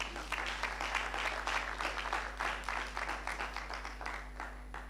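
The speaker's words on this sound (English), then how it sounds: "Please clap for the ambassador." Audience applause for the South Korean ambassador at a public lecture, a steady wash of many hands clapping across the room at moderate volume, with a low constant hum underneath.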